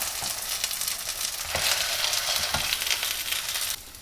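Kangaroo meatballs fry in a pan, giving a dense, steady sizzling hiss with a few soft pops and taps, close and continuous, with no voices.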